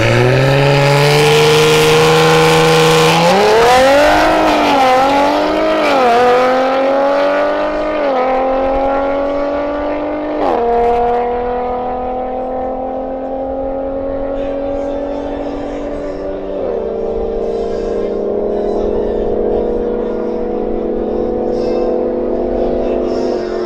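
A Ford Mustang revs loud and close, its engine note climbing through repeated upshifts, then fades slightly as it passes and moves away, with continuous loud roaring throughout.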